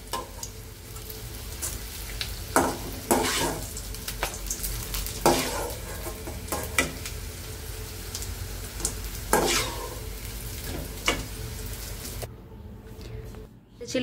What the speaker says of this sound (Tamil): அது சலசலன்னு சத்தம் கேட்கணும்.